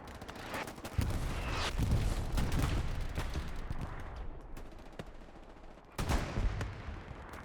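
Video game battle gunfire in a match on Foy, with bursts of machine gun rattle and rifle shots, heavy clusters of fire around one second and again near six seconds, moderately loud with a distant, layered battlefield feel.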